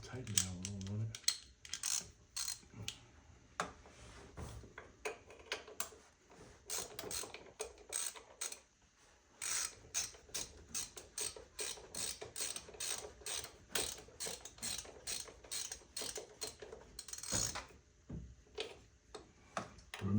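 A ratchet with an extension clicks in long rapid bursts while tightening a bolt on a 2010 Chevrolet Traverse, the dense pawl ticking repeating steadily with brief pauses between strokes, close and fairly loud.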